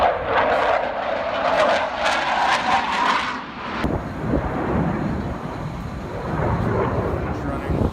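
Blue Angels military jets flying overhead, a loud sustained roar with wind buffeting the microphone; the engine tone shifts abruptly midway as the aircraft passes and continues as a broad rumbling wash.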